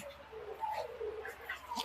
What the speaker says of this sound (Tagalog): ingay yung aso ko